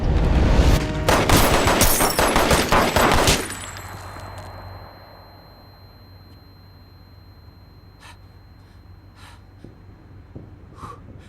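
Gunfire in a police thriller shootout, a dense burst of rapid sharp shots at the start that stops after a few seconds, leaving quiet room tone with a few faint later clicks and knocks.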